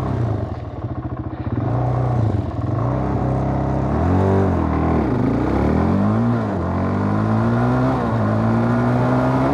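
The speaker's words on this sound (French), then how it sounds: "On va se faire une petite accélération." A Suzuki LTZ 400 quad bike accelerates hard, its engine note climbing through rising revs with gear changes and dips before settling into a loud, sustained high-pitched drone close by.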